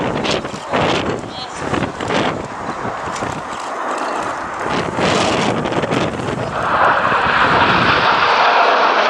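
Aerobatic display jets trailing red smoke roar past at an airshow, a loud broad rushing engine noise that builds and swells over several seconds, with an announcer talking over it.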